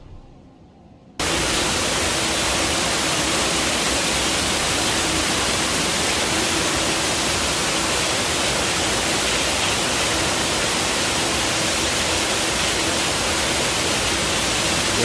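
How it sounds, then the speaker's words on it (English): After a moment of quiet, a loud, constant roar of rushing water starts abruptly in a covered water play area at a beach resort, filling the space without letting up. "it is so loud with the water that that's probably all you're gonna hear"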